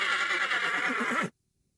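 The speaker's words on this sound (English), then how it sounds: "the smell of the predators has spooked the horses and they refuse to obey, rearing and whinnying" Horses spooked by predators, rearing and whinnying in a tabletop battle narration: one sustained, wavering neigh, fairly loud and alone, ending abruptly into silence.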